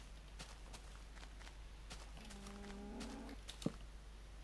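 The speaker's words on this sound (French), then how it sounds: "Une vache là-bas." A cow lows in a blocky survival video game at night, a single drawn-out moo rising mid-clip over a steady background hum, with faint footsteps before it.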